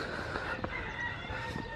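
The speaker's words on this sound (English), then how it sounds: "There's just cockerels just chilling in the park." Cockerels crow in a park, a fairly faint, brief crowing call with a few clucks, heard at moderate distance over low background murmur.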